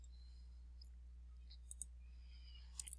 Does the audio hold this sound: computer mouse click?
yes